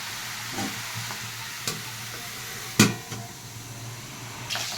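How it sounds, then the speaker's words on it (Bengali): Bottle gourd stirred with salt in a hot frying pan, a steady low sizzle under a few sharp scrapes and taps of the spatula against the pan, close and moderately loud, with no talk. "নুন দিয়ে একটু নাড়াচাড়া দিয়ে ঢেকে রাখবো"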